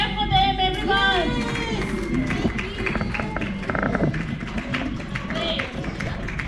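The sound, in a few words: audience clapping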